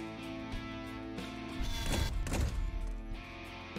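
A dull, heavy thud from an artillery bombardment in the mech strategy game Kriegsfront Tactics rises over a quiet tonal background, then a muffled rumble trails off.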